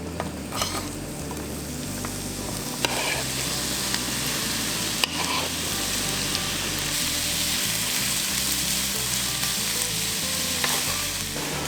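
Onions sizzle and crackle steadily in butter in a hot pan, with occasional stirring scrapes, close and continuous throughout.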